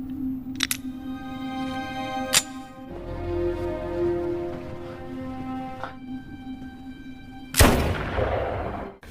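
A pistol fires a few sharp, isolated cracks during a film scene over sustained musical tones, the last shot louder and followed by a brief noisy wash.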